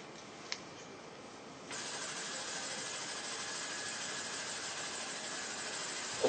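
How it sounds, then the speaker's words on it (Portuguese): A simulated Bell helicopter engine starts up with a brief click, then settles into a steady, even, moderately loud whine and rumble that runs on alone without talk. "o som do helicóptero, o helicóptero que eu uso é um Bell, e o som é o do Bell, do motor Bell"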